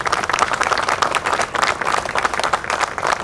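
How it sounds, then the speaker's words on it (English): Clapping from an audience at an outdoor wreath laying ceremony, honoring Glenwood Burley and his committee: a steady, even patter of many hands at moderate volume, with no speech. "Let's give him a round of applause and his committee."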